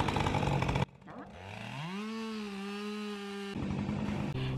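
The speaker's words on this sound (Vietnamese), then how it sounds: "Chỗ kia anh xã của mình đang cưa cái cây bự rồi các bạn." A saw cutting down a big tree outdoors: loud, rough buzzing at the start and again at the end, with a steadier droning tone in between.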